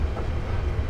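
Steady rumble of a Class 380 electric train on a busy Glasgow commuter line, heard from inside the carriage as it gathers speed, a continuous low drone with no talk.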